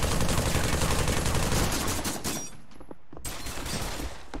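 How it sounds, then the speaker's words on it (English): Rapid sustained automatic gunfire from suppressing fire in the Pavlov VR shooter, loud and dense for a couple of seconds, then a brief lull before more scattered shots resume. "Suppressing fire!"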